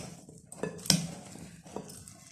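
Lobia and channa chaat ingredients with roasted ground cumin being stirred together in a bowl, a few soft clinks and scrapes of a spoon against the dish amid quiet room noise.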